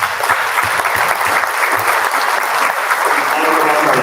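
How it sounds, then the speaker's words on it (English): An audience applauding at a National Junior Honor Society induction ceremony, loud sustained clapping from a large crowd indoors that continues evenly throughout. "Give yourselves a round of applause."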